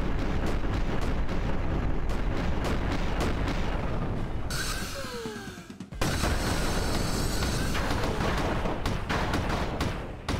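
Repeated shotgun blasts and booming explosions in the side-scrolling mech shooter game Mechblaze, a loud, dense run of gunfire and impacts with a brief lull midway before the firing resumes.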